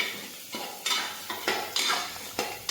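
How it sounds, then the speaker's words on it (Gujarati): A utensil scrapes and clatters against a pan in repeated stirring strokes over a light sizzle as stuffed ivy gourd (tindora) is stirred with masala, close and moderately loud. "ફેરવી લેશું"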